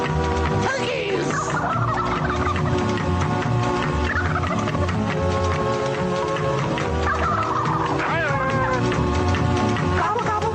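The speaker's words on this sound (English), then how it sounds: "Gobble, gobble." Turkeys gobble in rattling bursts over dense, steady music during a holiday radio broadcast.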